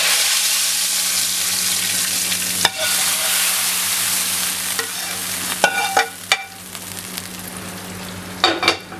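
A hot cumin tempering, fried golden for dhaba-style dal, is poured into the dal, giving a steady sizzle over a low hum, broken by sharp clinks and stirring knocks.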